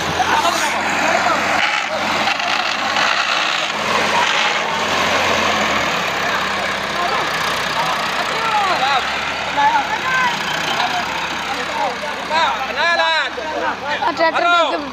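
A tractor engine runs at a steady idle-like drone close by, continuous throughout while someone talks over it.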